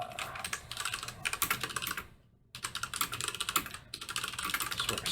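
Rapid typing on a computer keyboard makes dense bursts of close, clattering keystrokes, broken by a brief pause midway and another short gap before typing resumes.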